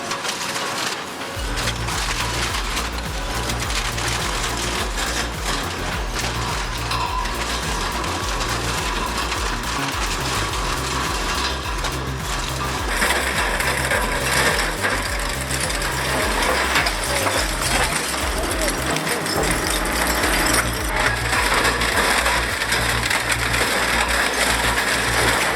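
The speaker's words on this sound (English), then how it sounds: "It rips through whole engines like a chainsaw through butter." Industrial shredder crushing metal engine parts, a loud, continuous grinding and clanking with rhythmic mechanical thumping and scraping, close and without talk.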